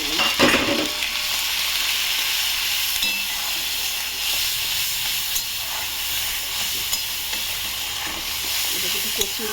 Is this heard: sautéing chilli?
yes